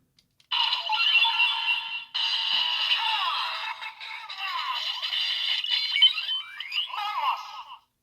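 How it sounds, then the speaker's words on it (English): Kamen Rider Revice Vistamp toy giving its standby noise, a bright electronic looping jingle with tonal sweeps that plays continuously for several seconds in separate bursts, loud and close with no talking. "all these apart from Kong have excellent standby noises"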